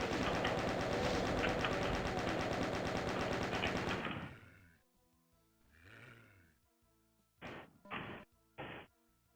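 Dense, continuous gunfire and crashing blasts roar in Doom for about four seconds, then cut off, leaving a faint monster growl and three short, sharp bursts of game effects at the end.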